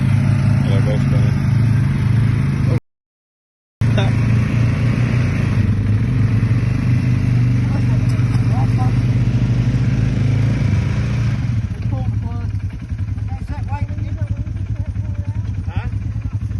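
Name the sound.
two four-wheelers with wheels spinning while pulling a boat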